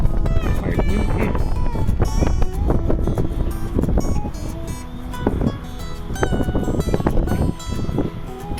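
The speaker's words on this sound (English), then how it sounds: "Quite windy." Wind buffets the microphone in heavy, continuous gusts, loud and close, with some clattering and a faint voice in the mix.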